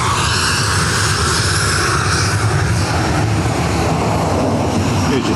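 The steady, loud engine roar of an Etihad Boeing 777-200 at Dublin Airport holds close and unbroken from start to end, with no voices.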